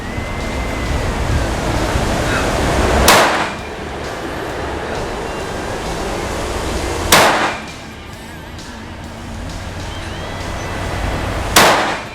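Three sharp gunshots from a KelTec P17 .22LR pistol crack out about four seconds apart, each a loud broadband burst over steady windy outdoor noise.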